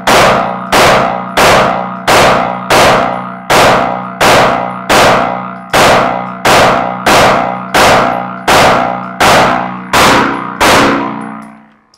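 Handgun fired at an indoor range lesson while the shooter holds maximum grip pressure: a steady string of about fourteen loud, sharp shots roughly 0.8 seconds apart, each with a ringing decay, with no talking.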